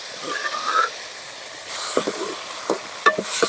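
Cooked forest horse gram drops into a pan of cumin frying in oil, giving a soft hiss and sizzle punctuated by a few scraping stirs and light clinks, fairly close and quiet.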